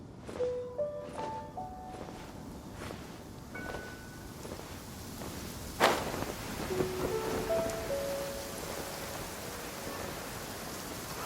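Steady heavy video-game rain downpour hisses continuously, with faint scattered tones and a brief louder splash partway through, no voices.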